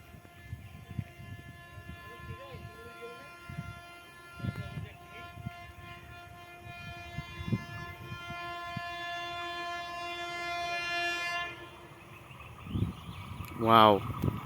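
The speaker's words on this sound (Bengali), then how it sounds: "ওয়াও, টান টান দেখো, এসি ট্রেন বেরোচ্ছে বন্ধুরা।" An AC local train on the Ranaghat to Bongaon line rolls past with a sustained hum and rumble, sounds a horn near the end, and a voice talks excitedly over it intermittently.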